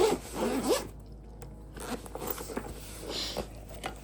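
The zipper on a Lectron jump starter's carrying case is pulled in a few short rasping strokes with pauses between, close and fairly quiet, a brief voice-like tone appearing at the start.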